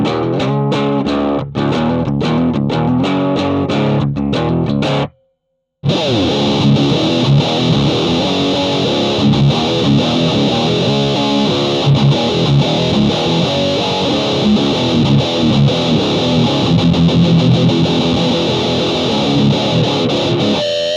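Heavily distorted electric guitar through a Fractal high-gain drive pedal plays loud, dense riffs, breaking off into a brief silence before a thick, saturated high-gain section takes over.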